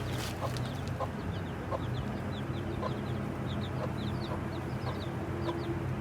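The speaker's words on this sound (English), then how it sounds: "this one decided she wanted to show up with 5 more chicks" A mother hen clucking among her five chicks in a backyard flock, with steady soft clucks under a continuous chorus of high, thin peeping from the chicks, close and fairly loud against outdoor background noise.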